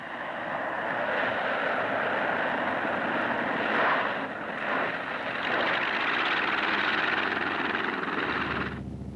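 A steady propeller-engine drone from an Army L-19 light aircraft holds throughout, fairly loud and close, with slight swells midway before cutting off near the end.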